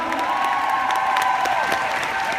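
An audience at a workshop session breaks into applause, dense clapping with scattered cheers and shouts layered over a crowd murmur, loud and sustained throughout.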